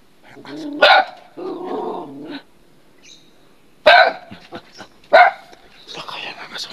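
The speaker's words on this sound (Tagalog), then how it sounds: "May aso sa loob." A dog gives a few sharp barks spaced a second or more apart, loud and near, mixed with other vocal noises in between.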